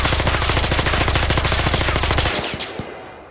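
Rapid automatic gunfire from a weapon in Roblox Electric State DarkRP, a loud, close, evenly spaced burst of shots for over two seconds, then it stops and a few separate single shots ring out, no voices.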